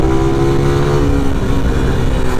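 Suzuki Raider 150 Carb motorcycle, 2021 model with Ecstar, on a test ride: a loud, close engine drone with steady harmonic buzzing and a slight rise and fall in pitch as it runs.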